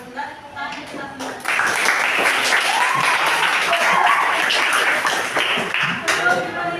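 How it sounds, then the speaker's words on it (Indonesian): Students clapping together at the close of a classroom lesson on coding and AI, a few scattered claps building into dense, lively applause that holds for several seconds, with voices chattering underneath. "Tepuk tangan untuk kita semua"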